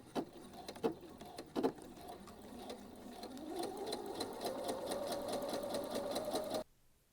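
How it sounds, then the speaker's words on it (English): A sewing machine stitches a quarter-inch seam on fabric baby booties. It opens with a few short clicks and bursts, then settles into a steady, fairly faint whirring run that stops abruptly. "we're going to take it to our machine so we can do a seam"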